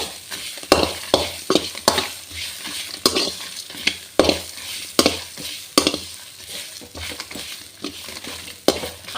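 Chutney ingredients frying in a pan, stirred with a utensil that scrapes and knocks in a steady series of close, sharp strokes over a soft background sizzle.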